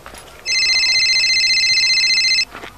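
A telephone rings once in a steady electronic burst lasting about two seconds, close and clear over a quiet room.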